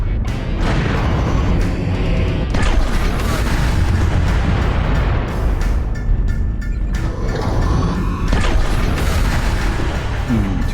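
Missile explosions in the Mechwarrior Online mech combat game, loud continuous booming blasts and rumbling impacts that saturate the scene, with faint speech mixed under the din.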